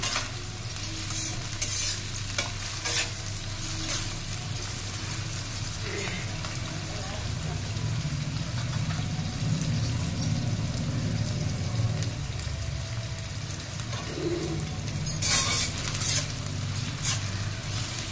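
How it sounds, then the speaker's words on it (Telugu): Onions and potato pieces frying together in a pan for an Andhra-style spinach and potato curry, giving a steady, close sizzle with occasional stirring scrapes throughout and no talk over it. "సేమ్ టైంలో ఉల్లిపాయలు, బంగాళదుంపలు వేగించాలి"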